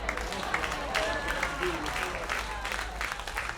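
A comedy club audience claps in a soft, scattered way during a stand-up set, with the hand claps slightly distant and a low room rumble beneath them.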